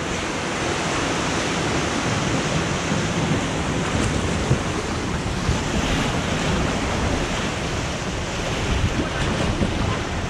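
Water constantly rushes and splashes around a tub rafting ride at the Tripsdrill amusement park, a loud, dense wash mixed with wind noise and no clear pauses.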